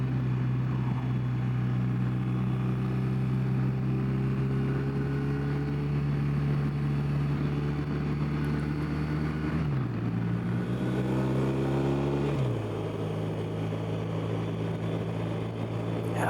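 A motorbike cruises steadily along a road with a strong, continuous engine drone, dropping in pitch at two gear changes before settling back to a constant hum, with no talking.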